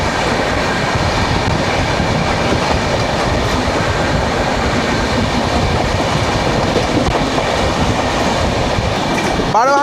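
The Howrah Mumbai Mail express via Nagpur thunders past close by, a loud, dense rush of wheels and coaches with clickety-clack rhythm that holds steady for the whole stretch, a brief squeal rising at the very end.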